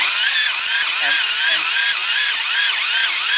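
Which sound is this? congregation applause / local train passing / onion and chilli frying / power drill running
power drill running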